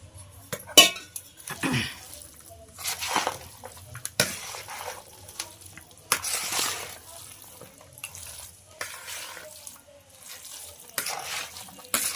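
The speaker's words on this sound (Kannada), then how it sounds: "ಎಲ್ಲ ಕೆಳಗಡೆಯಿಂದ ಮಿಕ್ಸ್ ಮಾಡ್ಕೊಳ್ಳಿ ಅಡಿಯಿಂದ ನೀಟಾಗಿ" A spoon clinks and scrapes against a bowl while mixing curd with flattened rice (mosaru avalakki) from the bottom, in short, irregular bursts, close up, with quiet pauses between strokes.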